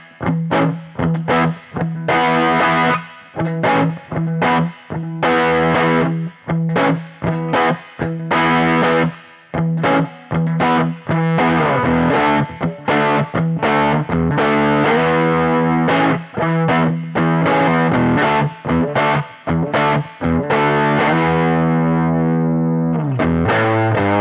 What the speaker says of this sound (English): Joe Walsh, Rocky Mountain Way.